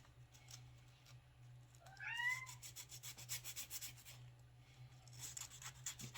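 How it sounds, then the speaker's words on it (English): A kitten gives one rising meow, then scratchy rubbing and rasping noises continue, all over a steady low hum. "I think you can hear my new kitten in the background."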